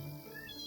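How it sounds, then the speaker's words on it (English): Paul, a cat in the game Forest of Drizzling Rain, makes a short, soft, contented vocal sound that lasts under a second. "Paul is purring in satisfaction."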